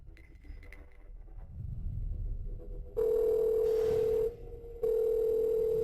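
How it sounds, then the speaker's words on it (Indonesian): Telephone ringback tone on an outgoing call, a steady loud electronic tone that sounds, breaks briefly and resumes after a quieter lead-in of faint room noise. "saya akan segera menelepon Yan Yan."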